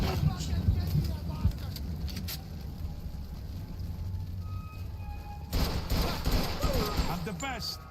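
Gunfire from the crime video game Mafia 2 crackles in bursts under a steady low rumble, with a louder, denser flurry of shots near the end.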